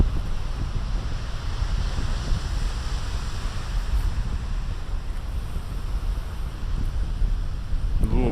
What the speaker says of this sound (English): I like the sound of the waves, the crashing thunder of the waves.